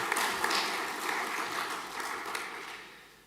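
A school gathering in a church sanctuary applauds its champion rowing crews, a soft, dense patter of many hands clapping that swells briefly, then thins and fades away over a few seconds, with no voices.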